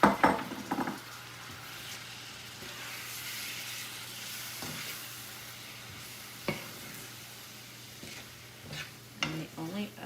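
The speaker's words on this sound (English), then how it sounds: "The sugar has actually dissolved some, so now I'm ready to dump those peaches in." Peaches cooking in dissolved sugar for Peaches Foster, with a soft steady sizzle throughout and occasional stirring clinks and scrapes of a utensil against the pan.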